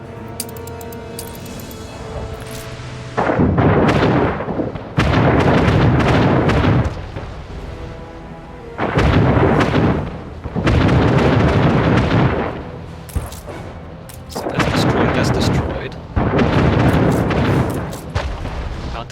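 Ship guns firing during a naval chase in Anno 1800 produce repeated heavy booming volleys in several long bursts separated by quieter gaps of background game sound, loud and close.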